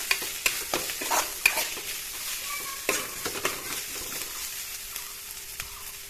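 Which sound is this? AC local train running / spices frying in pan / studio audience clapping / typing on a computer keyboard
spices frying in pan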